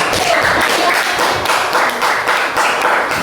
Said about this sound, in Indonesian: Boleh tepuk tangan untuk kelompok 1.